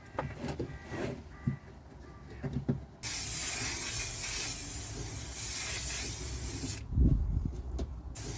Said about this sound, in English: give it a shot with that underbody rust converter primer stuff under there